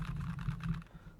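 A keyboard with tactile switches is typed on steadily in a short burst of quick clicks, recorded through a Thronmax Mdrill One Pro USB microphone, fairly quiet over a low hum and fading out at the end.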